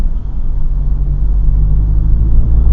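An Acura RSX DC5 with a short ram intake, a loud, deep, steady engine and intake rumble heard from close by for under three seconds, swelling slightly toward the end with no voices.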